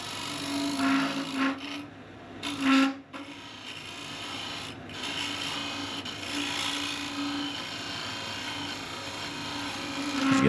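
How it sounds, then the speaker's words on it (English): Square scraper smoothing a spinning Red Ironbark workpiece on a wood lathe, a steady close rasping hum with a few louder scrapes early on, no talk. "I'll just come in with the square scraper and"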